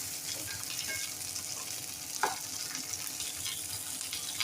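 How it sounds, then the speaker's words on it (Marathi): Ravas fish coated in besan and rice flour fries steadily in a pan, a soft, continuous sizzle with faint crackles and one brief clink, no voices. "दुसऱ्या बाजूला मी परत 2 मिनिटं फिश फ्राय करून घेतले।"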